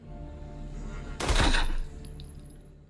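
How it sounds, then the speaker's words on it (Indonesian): One gunshot in a film scene rings out as a single loud burst of blast and rattle, lasting about half a second before decaying into a quiet background, with no talking around it. "James langsung menembaknya tepat di kepala"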